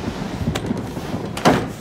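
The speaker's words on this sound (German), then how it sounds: "Oh mein Gott, mach die Tür zu!" A door in the Until Dawn horror game shuts with a firm thud after a couple of lighter knocks and scrapes, close and loud over a murmuring background.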